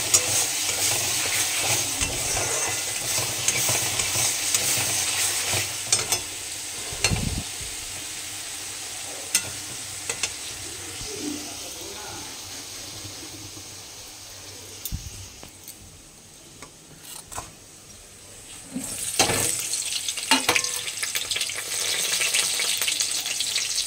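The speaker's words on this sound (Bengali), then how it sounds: "এখানে একটু বেরেস্তার জন্য পেঁয়াজ ভাজছি" Sliced onions fry in oil for crispy beresta, sizzling steadily with repeated stirring scrapes and occasional clatters, the hiss dipping midway before returning strongly near the end.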